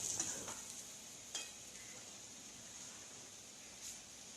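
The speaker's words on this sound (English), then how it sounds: "fry all the tikkis" Yam tikkis frying quietly in a pan, a faint even sizzle with a couple of soft clinks early on, steady and low throughout.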